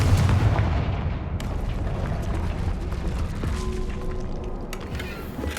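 A Confringo fire blast spell in Hogwarts Legacy sets off a dense, sustained roaring rumble with crackling bursts, loud and close throughout with no voice.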